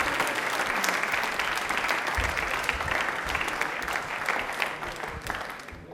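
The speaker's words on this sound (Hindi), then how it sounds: "तालियां शिवांश के लिए जोरदार बजा दो जोरदार।" Studio audience applause on a televised question-and-answer show, steady dense clapping throughout, moderately loud with no voices over it.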